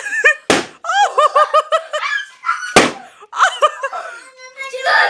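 Two sharp, loud balloon pops, far apart, during a children's game of bursting balloons to collect chocolates, with excited children's voices and laughter around them.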